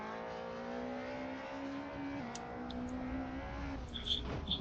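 Race car engine in Assetto Corsa lapping the Nordschleife, a steady revving tone rising slightly and dipping once mid-run, turned down low in the mix with a faint high squeal near the end.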